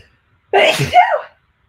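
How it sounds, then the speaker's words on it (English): A single close, sharp sneeze bursts out after a moment of silence, then fades quickly. "I have to sneeze."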